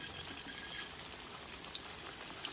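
Breaded chicken strips frying in oil in a stainless steel pan, giving a close crackling sizzle with a few brighter pops early on that settle into a steady bubbling hiss.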